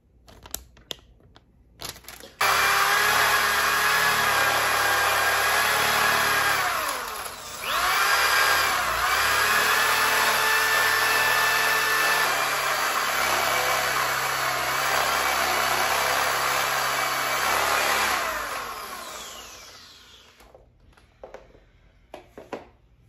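A corded electric drill whines loudly and steadily for nearly twenty seconds, with a brief dip in speed partway through, then winds down to clicks and handling noise.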